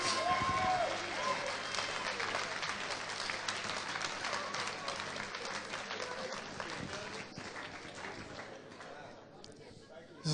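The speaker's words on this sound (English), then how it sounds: "Let's give all of our winning filmmakers a round of applause." Audience applause at a film awards final fills a large room with dense, steady clapping that gradually fades, while voices talk over it.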